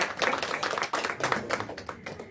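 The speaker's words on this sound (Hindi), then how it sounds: "जोरदार तालियां, बहुत ही सुंदर प्रस्तुति" Audience clapping at an annual day celebration after a children's performance, a dense, lively burst of many hands under a crowded hall ambience.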